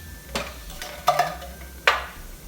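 Something in a pan gets stirred, with a few brisk spoon scrapes and clinks against the metal, about four strokes over a quiet low background with a faint sizzle, close and moderately loud.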